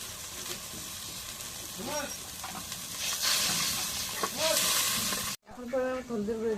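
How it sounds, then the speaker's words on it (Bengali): Garlic paste frying in hot oil in a home kitchen gives a steady, close sizzling hiss with stirring, and voices come in briefly over it. "রসুন বাটা দিয়ে"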